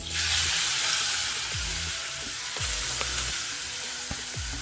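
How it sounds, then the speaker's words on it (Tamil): Grated carrot sizzles and fries in hot ghee for carrot halwa, a loud, steady crackle close by, with occasional scraping knocks from stirring. "கேரட் போட்டேன். இப்போ நல்லா வதக்கிடுங்க."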